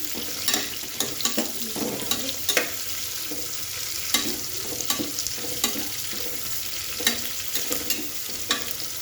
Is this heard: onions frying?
yes